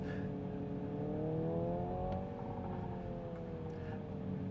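Simulated engine sound from a 600-horsepower 2025 Hyundai Ioniq 5 N electric car, a steady synthetic engine drone with harmonic tones that swell into a brief rising rev blip and settle back, heard from inside the cabin.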